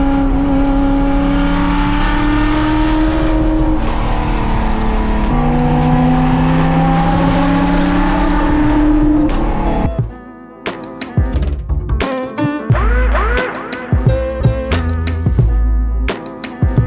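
A NASCAR-inspired Ford F100 engine roars loud and close on a mountain road, holding rising and falling revs before dropping into sharp, staccato blips and crackles.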